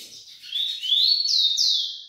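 A rufous-collared sparrow (tico-tico) sings a clear, close whistled song of rising and falling phrases, loud and alone without talk.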